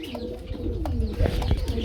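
Pigeons coo steadily in low, rolling phrases at a pigeon sale, several birds overlapping close by with a few brief higher chirps mixed in.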